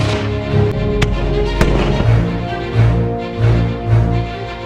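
Booming blasts and rumbling reports from artillery guns firing at a siege reenactment, a few sharp cracks among deep, rolling thuds that swell and fade at a distance.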